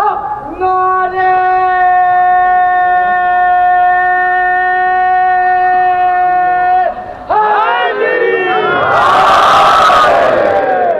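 A large crowd at a Shia majlis gathering chants religious slogans in unison with long, sustained, loud calls. After a brief pause, a louder burst of overlapping shouted chanting follows.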